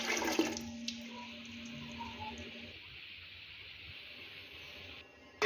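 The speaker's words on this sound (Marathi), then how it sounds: "यासाठी मी या साइजच्या तांब्याने 5 तांबे पाणी मी या पातेल्यात ओतून घेणार आहे।" Water poured from a copper pot into a steel cooking vessel, a steady splashing gush that runs for several seconds before easing off.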